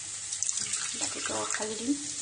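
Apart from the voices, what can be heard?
hot water poured into cooking pot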